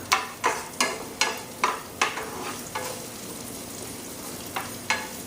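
Onion sizzles in hot oil with curry leaves and cumin as a spoon stirs the pan, sharp scraping strokes repeating in a steady rhythm over a constant fry hiss, close and fairly soft.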